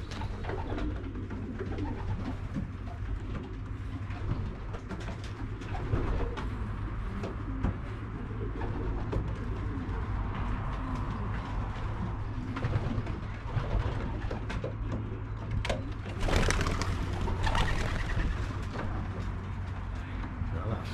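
Young racing pigeons pour out of an open-fronted loft, their cooing and wing flutters forming a steady close flock noise, with a person talking over it.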